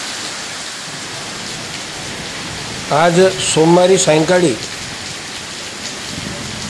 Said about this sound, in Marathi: जोरदार पावसाला सुरुवात झाली।